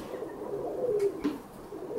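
A roller pigeon cock coos softly and steadily over a low background hum, with a couple of faint clicks partway through.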